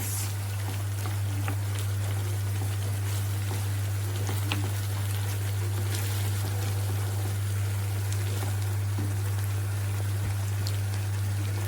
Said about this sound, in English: I'm going to let it simmer on the low heat for about 10 minutes.